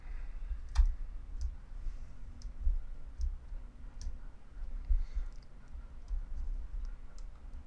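Mode dial on a Canon G7X Mark III compact camera turned to P, a few quiet, sharp clicks spaced irregularly over a low background hum.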